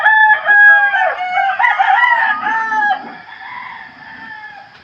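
Roosters crow loudly and close by in the early morning, one long harmonic cock-a-doodle-doo followed by overlapping calls from other birds, with faint clucking underneath.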